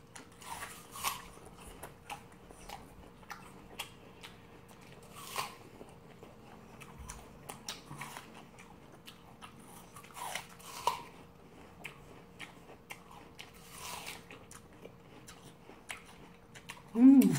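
Crisp bites and chewing on a whole dessert apple, with repeated crunchy bursts every few seconds, close to the mic, with a louder bite right at the end.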